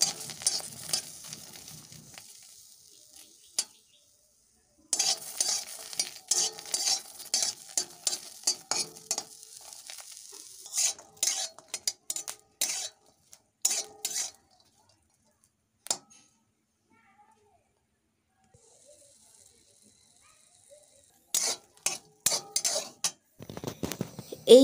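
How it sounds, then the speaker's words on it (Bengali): Green chillies and garlic dry-roast in a hot wok with no oil, heard as bursts of sizzling and a spatula scraping the pan, broken by several quiet pauses between rounds of stirring. "ওর মধ্যেই দিয়ে দিচ্ছি কাঁচা লঙ্কা আর রসুন। শুকনো খোলায় ভালোভাবে ভেজে নেব।"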